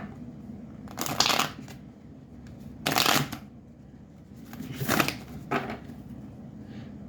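Tarot cards being shuffled by hand in bursts, a few riffling flurries separated by quieter handling, close and fairly soft with no talking.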